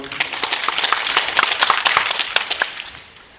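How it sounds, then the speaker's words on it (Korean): An audience at a lecture on elevator safety law gives a round of applause for an introduced lecturer, with dense, steady clapping of many hands that fades out near the end. "박수 한번 해주십시오."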